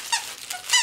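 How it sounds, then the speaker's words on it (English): Squeaker inside a plush dog toy that also holds crinkle paper, squeaking three times in quick, high-pitched bursts with brief gaps between them. "two squeakers"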